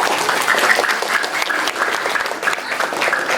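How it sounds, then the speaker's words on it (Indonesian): Warm applause at a Ramadan pesantren gathering for a woman who cooked, a loud continuous patter of many hands clapping together without pause. "Tepuk tangan buat Umi."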